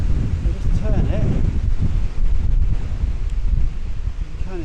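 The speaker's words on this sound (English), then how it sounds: "I've got no idea if you can hear me, but yeah, it's windy." Strong wind at Black Mountain Bothy buffets the microphone with loud, rumbling low roars and gusts, while a person talks faintly underneath.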